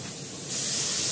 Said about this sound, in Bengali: আলুটা সেদ্ধ করতে যতটুকু জল লাগবে ততটুকু জল দিলাম, অল্প করে জল দিলাম।